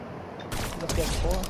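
Rapid bursts of gunfire in a multiplayer shooter video game, loud and dense, cutting in after a brief quiet moment and continuing in overlapping rattles.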